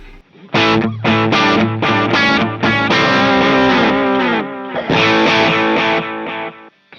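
An electric guitar run through a distortion pedal with an echo effect in the effects loop plays sustained chords, with repeating echoes trailing after each strum and ringing out at the end, loud and alone.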